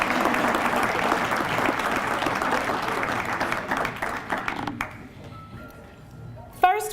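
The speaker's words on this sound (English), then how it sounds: "you can give them a round of applause" An audience applauds loudly and steadily for Shad Derby Queen candidates at a coronation ball, the clapping fading out toward the end before a brief sharp clink.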